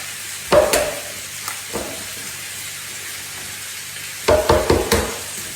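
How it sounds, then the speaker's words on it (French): About 500 g of sliced courgettes sauté in a frying pan with a soft, steady sizzle, broken by a few sharp clinks and knocks from stirring. The bursts come early and again near the end, with no voices. "j'ai coupé 500 g de courgettes que je fais revenir à la poêle"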